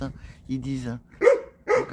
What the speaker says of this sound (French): c'est mon chien, il la voit, on ne sait pas pourquoi